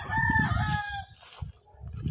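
A rooster crows loudly and close in a home garden among squash plants, one full drawn-out call, followed by a few softer clucks and faint rustling.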